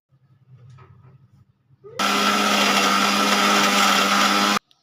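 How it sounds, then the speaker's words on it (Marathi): After a few quiet taps, a mixer grinder starts with a sharp whir, grinding biscuits into powder, and runs loud and steady for about two and a half seconds, then stops abruptly. "मी आता हे सगळं मिक्सरला लावून घेणार आहे. ह्याचं मी पीठ करणार आहे."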